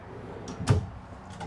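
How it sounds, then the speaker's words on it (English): A drawer in the kitchen of a Cimarron Prostar four-horse living-quarters trailer is opened or closed, making one soft thud with a faint slide before and after it, under a quiet room background. "3 drawers right here"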